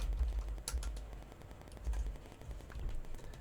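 Soft, quiet clicks of a computer keyboard come in a few light bursts while code is typed, with no talking.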